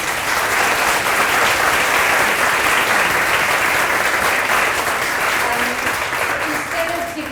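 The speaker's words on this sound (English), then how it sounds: "Could we have a big round of applause, please?" A panel audience at a women's wellbeing event gives a big round of applause, loud and dense, a continuous roar of many hands clapping close by that holds steady for several seconds and tapers only slightly at the end.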